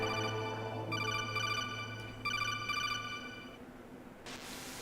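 A codec phone call ringing in the 1998 game Metal Gear Solid, a repeated electronic trilling ring in short bursts over a low hum, loud and alone without talk.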